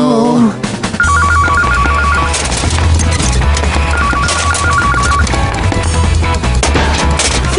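Cartoon telephone ringing, with repeated bursts of bright electronic trilling over a busy, loud musical and effects bed throughout.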